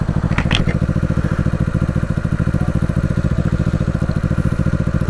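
Vintage Honda road motorcycle under way, its engine thumping in a fast, even pulse close up, with a brief rattling clatter near the start and steady wind rumble throughout.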